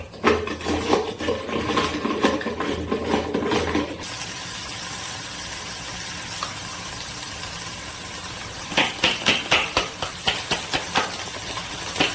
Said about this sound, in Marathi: कांदा चॉप करून घेते